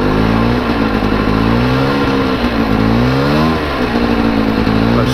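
A Polaris Scrambler 400 ATV engine with a damaged throttle cable revs loud and close, pitch climbing and dipping in repeated surges, with no voices.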